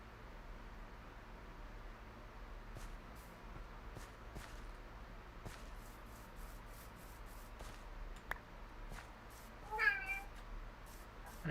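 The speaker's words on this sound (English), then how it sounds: "Meow to you too, kitty." A cat meows once, a short rising call over a quiet background with faint shuffling steps and soft knocks.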